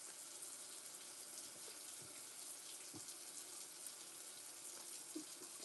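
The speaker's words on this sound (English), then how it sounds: "KendyK, turn the water off so folks can hear." Water runs steadily from a kitchen tap into a sink during soup cooking, a continuous hissing splash with a few faint clinks underneath.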